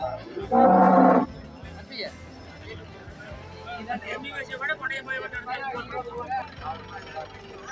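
A cow at the Seenapuram cattle market gives one loud, close, drawn-out moo, followed by a busy market background of murmuring voices and scattered noise.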